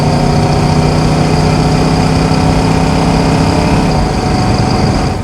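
A restored 1966 Ford Mustang with a 289 V8, automatic transmission, manifolds, full-length dual exhaust and Flowmaster mufflers drones loudly and steadily while cruising, a constant low rumble that eases slightly near the end.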